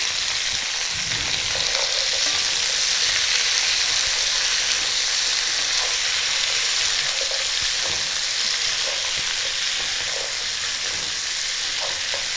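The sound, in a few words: stir-frying cauliflower, potato, beans, tomato and peas in a wok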